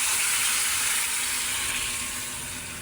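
Broth poured over browned, fried pork steak in a pan sets off a loud, hissing sizzle that fades slightly over a few seconds, heard close and alone.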